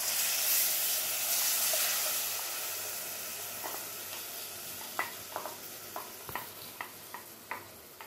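Masala paste hits a hot pan for an Ayala mackerel curry, giving a loud broadband sizzle that slowly fades, followed by a run of sharp spatula scrapes and taps near the end.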